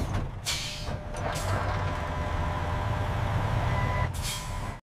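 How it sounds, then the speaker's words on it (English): Trucks back up into the loading bay of a glass bottle recycling plant, with loud, close hisses of air brakes at the start and end over a low, steady engine rumble. "trucks back up into the loading bay"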